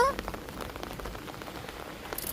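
Heavy rain falls steadily during a rainy-day dog walk, a dense close patter of drops on surfaces with no talking.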